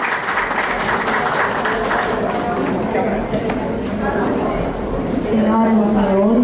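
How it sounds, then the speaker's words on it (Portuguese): Audience applause at an evening cultural event launching a visual arts catalogue, a steady wash of clapping from a crowd filling the room and swelling near the end, with voices mixed in underneath. "Gostaria que fosse aplaudida também."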